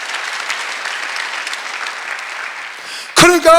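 A church congregation at Sunday worship applauds in a sustained, even wash of clapping that cuts off abruptly as a preacher's voice returns near the end.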